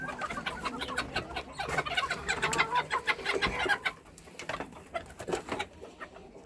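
Backyard laying hens cluck in a steady, busy chorus of short calls at close range, some louder bursts standing out, with no one talking.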